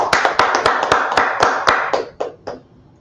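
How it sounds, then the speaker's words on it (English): A few people clapping in a slightly uneven rhythm, sharp close claps about four per second that slow and thin out before fading at the end. "Let's clap it up."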